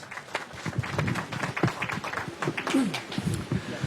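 An audience at a book presentation claps to welcome author Marco Cárdenas, producing scattered, moderately quiet applause with uneven bursts of hand claps, some individual claps standing out, continuing without a break.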